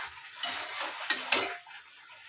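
A spoon stirs masala and water in a metal pot for an amti curry, giving a short run of scraping, clinking strokes with a few sharp knocks against the pot's side, close and fairly soft.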